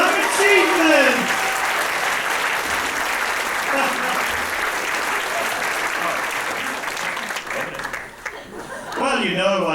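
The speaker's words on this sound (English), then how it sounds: "Maybe some applause for that statement." Festival audience breaks into sustained, dense applause filling the room, with a voice speaking over the start and again at the end.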